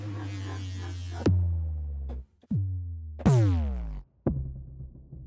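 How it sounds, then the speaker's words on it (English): Deep cinematic boom hits from a Horizon Kontakt trailer-music instrument, four heavy low impacts in succession, each with a sharp attack and a decaying, pitch-sweeping tail, separated by brief silences. "Those are the booms."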